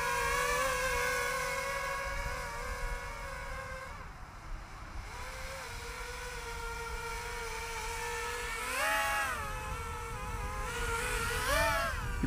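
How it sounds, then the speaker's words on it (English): Rotors of a FrSKY Rover3 tilt-rotor tricopter whine steadily outdoors in wind, a layered tonal drone that dips briefly, then rises and warbles in pitch twice as the rotors tilt and change speed. "that's with the slider operating the rotors"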